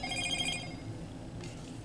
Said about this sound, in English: That was a notification, by the way.